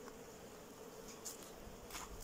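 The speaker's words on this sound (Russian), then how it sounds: "Ну, пчелы тут много." Honeybees on a hive frame make a faint, steady low buzz with occasional brief louder passes as single bees fly near, recorded quietly and without voices.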